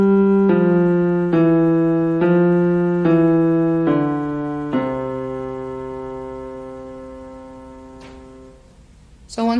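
Left-hand piano line played as six even quarter notes closing on a held C half note that rings out and decays, up close and with no talk over it, ending in a brief noise.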